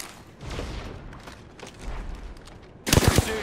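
Bursts of automatic weapon fire ring out in an Apex Legends match, a scattered volley of shots followed by a louder, denser burst close by near the end.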